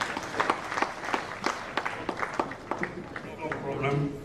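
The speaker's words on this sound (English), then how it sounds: "Can we please give him a resounding round of applause" Scattered, sparse applause from an assembly audience, individual claps standing out irregularly, fairly quiet, with a voice emerging toward the end.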